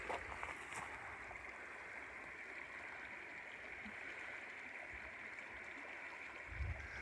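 A river flows steadily near a riverside campsite, a continuous broadband wash of moving water that stays even and fairly close for the whole stretch, with no voices over it.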